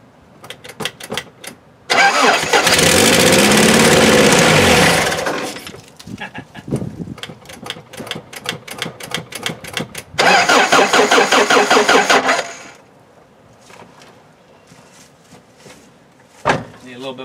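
Cold start of a 1984 Toyota SR5 pickup truck engine after five years of sitting: two loud bursts of cranking and sputtering engine, each lasting a few seconds, separated by quieter clatter and handling noises, with a short knock near the end.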